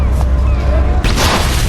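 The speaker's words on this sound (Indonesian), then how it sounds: "Set off another grenade." A grenade goes off in an action-film scene: one sudden, loud, broad blast about a second in, cutting through an already dense, rumbling background.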